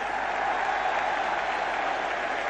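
Stadium crowd applauding at an AEK Athens versus Nottingham Forest football match, a dense, steady roar of clapping that fills the whole stretch without a break.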